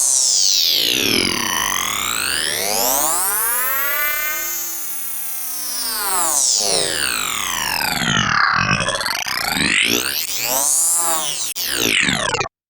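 A sample plays through a Bitwig Grid reading head that sweeps forward and backward at changing speeds, producing a continuous warped tone that swoops up and down in pitch like a whirring tape, loud and unbroken.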